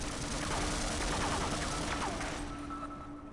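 Turret gunfire in a Half-Life mod sounds as a dense, rapid, continuous rattle of shots at a faint level, with a few whining tones above it, then tapers off at the end.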